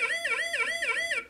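A phone safety app sounds an emergency alarm, a loud electronic siren tone that wails up and down in rapid, repeating sweeps, alone and close.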